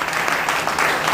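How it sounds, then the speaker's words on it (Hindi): Dense, steady applause from a large gathered audience at a political party meeting, loud and continuous with no pauses and no voices rising above it. "हम अपना जोरदार तालियों से स्वागत करें"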